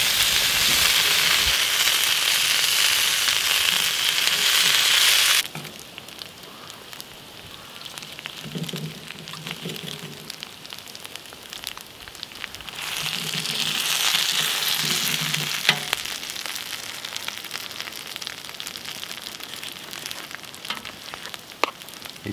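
Sausages sizzle and spit on the hot cooking surface of a Tiger Roar wood stove inside a hot tent, a steady close frying hiss that drops quieter midway, then swells again, with no talking.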